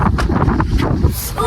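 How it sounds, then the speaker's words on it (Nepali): Strong, cold wind blows outdoors at Bandipur, buffeting the microphone in loud, uneven rumbling gusts close up, with a faint voice briefly audible. "खतरा हावा चलिरहेको छ यहाँ"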